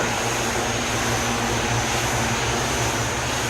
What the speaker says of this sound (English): Here we're flying the Aquac Air DHC-300 with the wheels.